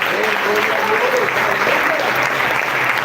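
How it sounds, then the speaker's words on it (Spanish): A church congregation applauding at a Saturday worship service, a dense, sustained clapping close and loud throughout with no pauses. "Que ya que le pueda dar un fuerte aplauso a nuestro Señor."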